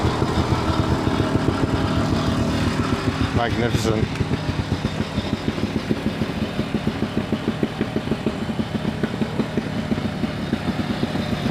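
A three-wheeled microcar engine, mounted on the single front wheel with a chain drive, idles steadily with a rapid, buzzy putter up close at a microcar rally while a voice briefly speaks over it.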